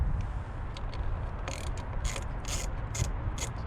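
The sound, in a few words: loosening negative battery terminal on 2014 Toyota Corolla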